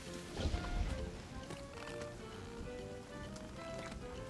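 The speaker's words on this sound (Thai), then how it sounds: "มึงจะตกขนาดไหนครับ ฝนเนี่ย" Rain falls steadily in the survival video game Sons of the Forest, a continuous soft patter on surfaces under game ambience.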